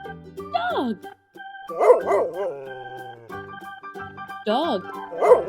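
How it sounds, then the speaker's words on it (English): A dog gives several sharp barks in short bursts, some yelping and rising in pitch, over light background music. "dog,"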